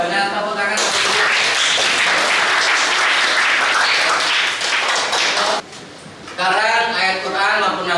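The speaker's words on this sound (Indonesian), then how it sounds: "jawabannya tepuk tangan" A classroom gives a round of applause, a burst of many hands clapping that starts abruptly, runs steadily for several seconds, then cuts off; a voice talks before and after.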